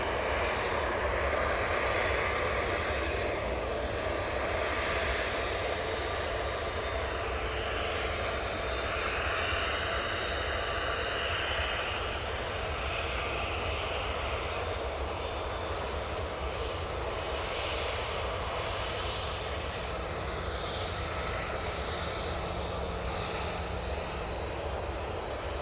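Boeing 777 airliner at Manchester Airport, a sustained, broad engine roar that stays fairly steady and moderately loud for the whole stretch, with no talk.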